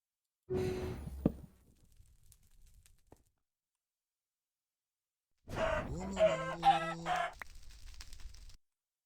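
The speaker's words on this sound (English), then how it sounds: "I summoned a chicken, but the first attempt didn't go so well." A summoned chicken in the Minecraft modpack FTB Interactions gives two separate bursts of clucking and squawking, quiet and close, with a short gap of near silence between them.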